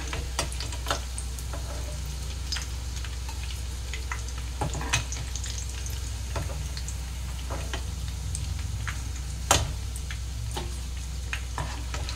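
Oil sizzles and crackles steadily as vegetable chops fry, with scattered sharp pops and ticks over a low hum, and no one speaking.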